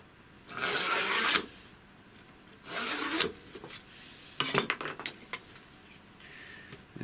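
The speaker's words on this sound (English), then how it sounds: "just going to scribe a line down" A scribing tool drawn across FR4 G10 laminate sheet, three rasping scratch strokes of about a second each at close range, followed by lighter clicks and scrapes.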